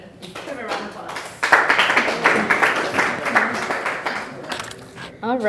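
A crowd at a tutoring awards ceremony claps for a presenter, a steady patter that swells midway and continues under a person talking.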